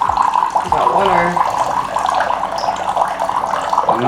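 Cold water runs from a water dispenser into a cup, a continuous close splashing stream, while people talk over it.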